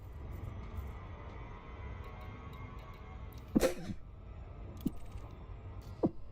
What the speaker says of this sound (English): I've got the sneezes because it's bloody freezing up here.